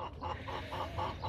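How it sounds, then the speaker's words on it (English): A broody backyard hen clucks in a slow, even rhythm, about six soft, close clucks in a row with no voices over them. "Anybody want to buy a broody chicken?"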